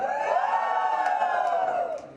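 Wedding guests at a Cuban-themed reception scream and cheer together in a sustained high, loud crowd whoop that rises, holds for about two seconds and then tails off.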